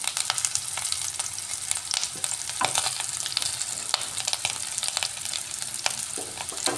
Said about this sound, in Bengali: খুব সুন্দর ফ্রাই হয়ে গেছে আলুগুলো